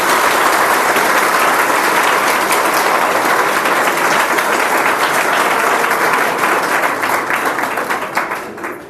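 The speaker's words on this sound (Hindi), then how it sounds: "एक बार जोरदार तालियां दें" A large audience at a defence academy in Kanpur applauds loudly and continuously, a dense wash of many hands clapping that gradually tapers off at the end.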